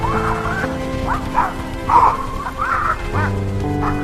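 Several dogs bark in short, scattered bursts, some yipping, over a steady low drone in an animated cartoon; barks overlap irregularly at moderate loudness.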